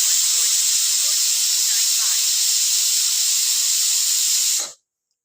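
A pressure cooker cooking mustard-greens saag blows its whistle, a loud continuous high steam hiss that holds steady close by for over four seconds, then stops abruptly into silence.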